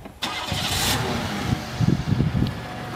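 An estate-auction car in Northern California with a new battery cranks and fires up, settling into a steady running engine with some throaty pulses, close and loud.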